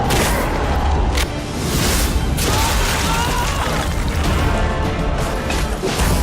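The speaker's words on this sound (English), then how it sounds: "Its explosion triggers a powerful blast of light that wounds vampires instead of blinding them." In the game Nosgoth, a light bomb goes off with a loud boom and crashing blast, followed by dense, chaotic combat noise with sharp impacts and whooshes.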